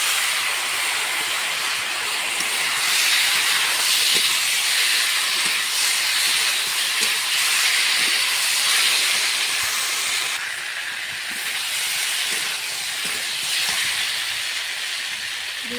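Potato and ridge gourd frying in a pan as a ground paste of ginger, cumin, coriander and green chilli is added, giving a loud, steady sizzle and hiss throughout with faint scattered clicks.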